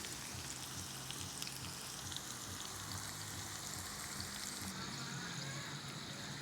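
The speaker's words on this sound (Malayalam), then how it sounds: "മീഡിയം സിമ്മിലിട്ട് നമുക്കിത് ഫ്രൈ ചെയ്തെടുക്കാം." Potato slices for a Kerala-style potato fry sizzling steadily in a pan over medium heat, a dense, continuous crackle and spatter close by with no talk.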